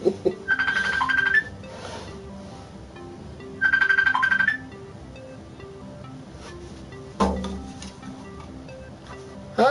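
Phone ringtone sounding in two loud, clear bursts of chirping rings spaced a couple of seconds apart, over outdoor rustling and faint background noise.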